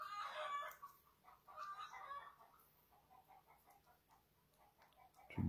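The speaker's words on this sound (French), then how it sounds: "On dirait que les poules sont aussi avec moi en train de bosser" Hens cluck and a rooster crows close by on a farm, a loud burst of clucking at the start, then quieter repeated clucks and calls that fade and return, ending with a sudden low thump.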